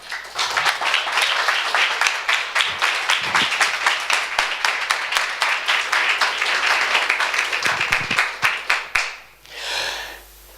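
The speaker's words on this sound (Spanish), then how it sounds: "Denle un aplauso, Señor, vamos." Sustained rhythmic clapping from a church congregation, loud and steady for several seconds before tapering off into a few scattered claps and a low murmur.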